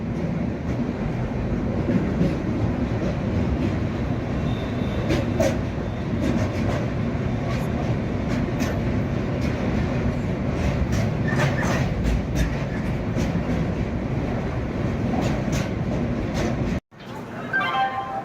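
A train crossing the Ganges bridge at Varanasi rumbles steadily for a long stretch, wheels clacking and metal rattling close by, before a brief drop and the noise returning.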